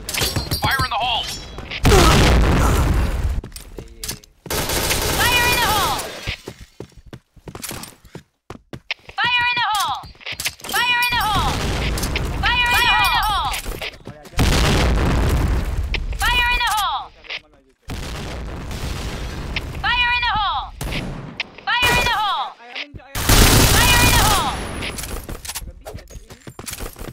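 Bursts of gunfire and blasts in a Counter-Strike style bomb-defuse round, loud broadband cracks recurring through the clip between stretches of voice chat and game chatter.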